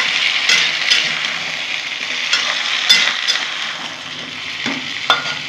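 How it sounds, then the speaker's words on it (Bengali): Okra and drumstick pieces fry in a pan with a steady, close sizzle, broken by a few sharp scrapes and clacks of a utensil stirring against the metal; no voices. "বন্ধুরা এখন ঢেঁড়স আর সজনে ডাঁটা আছে, এগুলো দিয়ে দেবো। এগুলো একটু ভেজে নেবো।"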